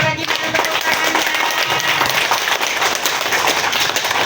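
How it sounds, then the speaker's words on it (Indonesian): An audience gives sustained, dense applause at a therapy clinic gathering, steady clapping from many hands throughout. "tepuk tangan sekali lagi dengan tepuk tangannya"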